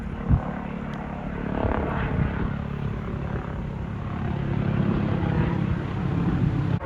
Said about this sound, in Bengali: ওই যে হেলিকপ্টারটা যাচ্ছে, এগুলো কিন্তু মানে খুকুসেতে, মানে হচ্ছে এমার্জেন্সি হেলিকপ্টার